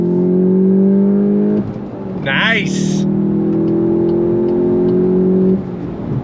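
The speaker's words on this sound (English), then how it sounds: "Let me downshift here, second gear. On throttle, here we go." A 2024 VW GTI 380 with a manual gearbox, downshifted to second, revs up under throttle, a loud, steady engine drone that rises, dips briefly at a shift, then holds high before easing off, with a short spoken remark midway.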